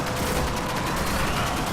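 A dense, continuous barrage of gunfire and explosions from a grenade fight in the Destiny video game, with rapid overlapping bursts at a constant loud level and no pauses.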